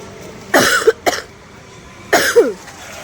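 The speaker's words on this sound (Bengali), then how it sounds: "কাশি হচ্ছে" Three harsh coughs, a quick pair and then a single one after a pause, close to the mic over a quiet background.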